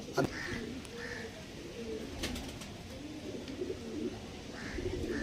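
Several Kalshira and red Shila pigeons coo softly and steadily, their low rolling calls overlapping at a moderate distance with no talking.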